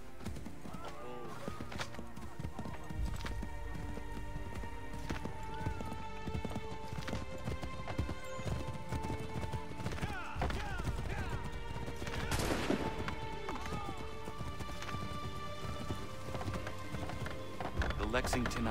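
Rhythmic clip-clop of galloping hooves with a horse whinnying, mixed with scattered gunfire and voices talking over a busy Assassin's Creed III game soundscape.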